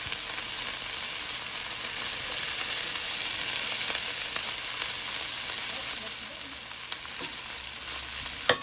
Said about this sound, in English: So we're going to let this fry up a little